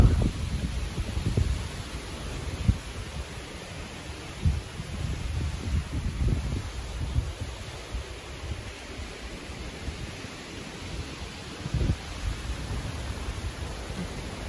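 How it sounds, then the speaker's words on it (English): Strong wind gusting outdoors on a fall fly-fishing trip, a steady broadband roar with low buffeting rumbles against the microphone and brief louder gusts, no talking. "That is a driving wind right now."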